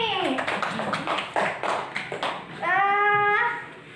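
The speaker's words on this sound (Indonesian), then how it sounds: "Pintar, tepuk tangan buat Ami." A classroom of pupils claps for a classmate in a short burst of scattered hand claps, mixed with a teacher's voice and children's chatter over the clapping.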